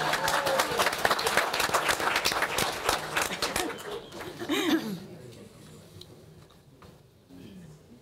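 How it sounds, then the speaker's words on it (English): An audience at a community event claps in a brisk, dense burst that tapers off after about four seconds, leaving a quieter room where a few voices and a chuckle are heard. "Thank you for the clapping."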